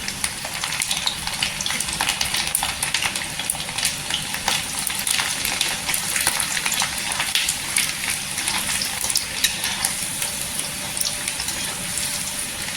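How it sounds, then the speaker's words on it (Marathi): Garlic frying until golden in hot oil for murmura chiwda, a continuous dense sizzle and crackle close by that holds steady throughout with no talking over it. "इथे लसूण टाकायची छान अशी गोल्डन कलरवर फ्राय करून घ्यायची लसूण"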